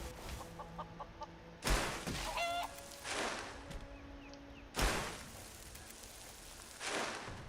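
Chickens in a video game cluck and squawk in a few loud bursts spread across the stretch, over a steady low ambient hum with quieter clucks in between.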